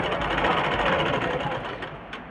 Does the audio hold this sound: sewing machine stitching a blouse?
yes